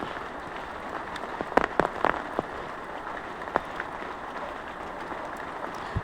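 Rain falls steadily on a rural courtyard, a continuous close hiss with a few sharper drips and taps striking nearby surfaces.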